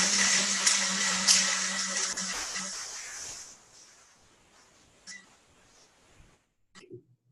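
A blender whirs loudly blending a shake, its high motor whine fading and slowing over a few seconds before stopping, followed by faint thumps and clatter.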